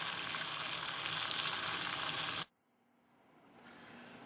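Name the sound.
water at a rolling boil over an alcohol stove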